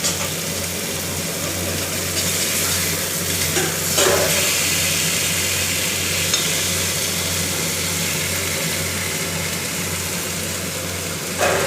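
Bhakur fish frying in a pan gives a steady, broadband sizzle with a constant low hum underneath, close and fairly loud, running unbroken without any voices.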